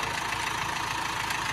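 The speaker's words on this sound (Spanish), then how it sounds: "Vean acá cómo jala el tractor." A farm tractor engine runs steadily at a medium idle, a continuous mid-pitched mechanical drone with a faint knocking texture, fairly loud and alone with no voices.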